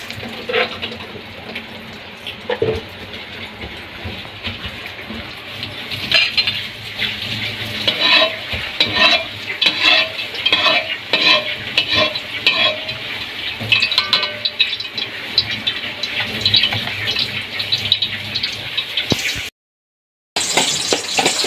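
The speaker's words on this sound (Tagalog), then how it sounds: "Naggisa na po tayo ng bawang at sibuyas." Garlic and onion sautéing in hot oil in a pan, a loud continuous sizzle with spatula scrapes and utensil clinks, and a brief dropout near the end.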